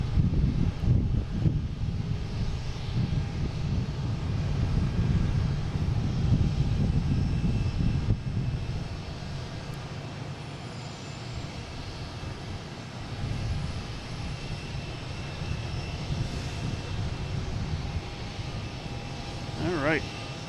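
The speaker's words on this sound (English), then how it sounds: "we got United coming in, a A319" United Airbus A319 jet arriving at Boston Logan from Newark, a broad roaring engine rumble that is loudest early and then slowly fades as it passes at a distance, with a person talking over it.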